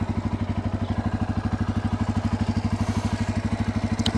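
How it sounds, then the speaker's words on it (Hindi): A 2024 Bajaj Pulsar N250 motorcycle idles close by, its engine producing a steady, rapid, bassy thumping pulse that stays even throughout. "ये आइडियल कंडीशन पर साउंड आप लोगों ने सुन लिया बाइक का, डिसेंट साउंड है, बेस काफ़ी अच्छा है"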